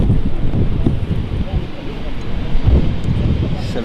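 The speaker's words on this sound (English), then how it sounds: "It's very blustery though." Strong, gusty wind buffets the microphone outdoors at Manchester Airport, a steady low roar with surges throughout.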